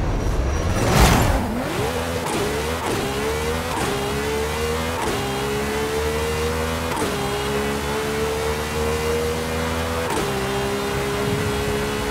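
A 2002 Ferrari Enzo revs hard in the racing game Forza Horizon 5. The loud engine note climbs repeatedly through quick gear changes, each shift dropping the pitch before it rises again, with no talking.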